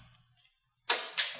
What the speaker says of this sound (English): let's crack open a beer